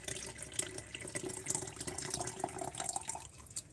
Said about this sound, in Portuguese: Então, eu tenho 500 ml aqui de água quente, ó. Vou colocar aqui para vocês verem.